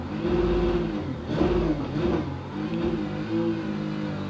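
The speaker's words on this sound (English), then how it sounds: "A lot of backfires I'm hearing." A race car engine in a racing sim revs up and down in repeated surges, loud and close, with backfire pops and no talking.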